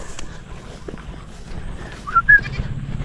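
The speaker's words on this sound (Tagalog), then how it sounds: "Yan mga boss yung mga kambing." Goats on a farm, a sow with her young, give a couple of short bleats in the middle distance over low outdoor background noise and light movement.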